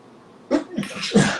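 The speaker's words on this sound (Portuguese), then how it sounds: "Perdão, estou espirrando." A man gives a quick double sneeze partway through a quiet indoor talk, two close, sharp bursts after a moment of near silence.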